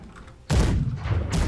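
Ship cannons firing in the naval game Blackwake, a sudden loud boom at mid-clip followed by sustained rumbling blasts and a second burst near the end.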